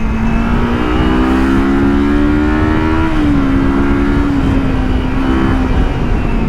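Revving engine of a Kawasaki Versys X 300 motorcycle, a steady loud drone that climbs in pitch, briefly eases and holds again, running alone without talk.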